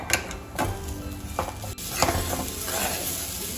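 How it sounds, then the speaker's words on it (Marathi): A spoon steadily stirs jaggery modak filling in a pan, with soft scraping strokes and a faint sizzle, close and continuous, with a few sharper clinks against the pan. "तर इथे आता आपल्याला गूळ पूर्णपणे मिक्स करून घ्यायचा आहे।"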